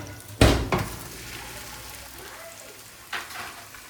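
Potato wedges frying in hot oil, a steady faint sizzle with two loud clattering knocks of utensils against the pan near the start and another later on.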